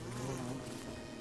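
A bee buzzes steadily in the Don't Starve Together video game, a continuous close drone over a faint game background, with no speech.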